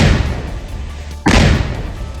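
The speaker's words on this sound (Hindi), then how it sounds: "ये धमाका आतंकी आसिफ के घर में हुआ" A blast demolishing a house comes as one sudden loud boom that cuts through heavy, dense background rumble and noise.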